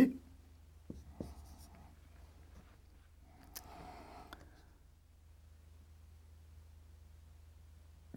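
A pen or chalk writes by hand during a measurement lecture, producing a few brief scratchy strokes near the start and middle, faint and close over a low steady hum.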